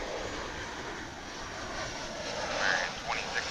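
An American Airlines airliner in heritage livery at DFW International Airport gives a steady, broad engine roar at moderate distance, swelling slightly near the end, with faint talk in the background.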